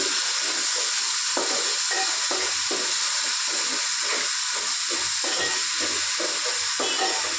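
Egg frying in a hot pan for egg chicken fried rice, a steady close hiss and sizzle running unbroken throughout with faint stirring scrapes, no talking.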